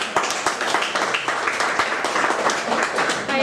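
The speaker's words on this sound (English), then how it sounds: "Please give them a round of applause." Applause from an audience at a gallery event in Singapore, a steady wash of many hands clapping, moderately loud and sustained throughout.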